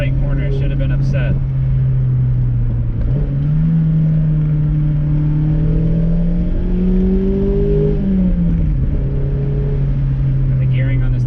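A Mazda MX-5 six-speed engine revs steadily up and down through short gears while driving, a loud close drone that rises and dips as shifts break the pitch, with a voice talking over it.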